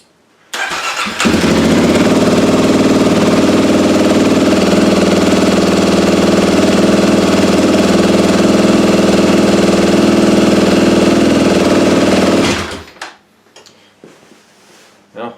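A 2021 Kawasaki KLX300 motorcycle engine catches after fuel pump priming and runs loud and steady for about eleven seconds close by, then shuts off into near quiet.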